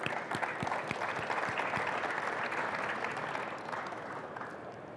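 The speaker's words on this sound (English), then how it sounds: "A big round of applause to Corbins." Conference audience applauding, a dense sustained wash of many hands clapping with a few sharper nearby claps, steady and then tapering slightly at the end.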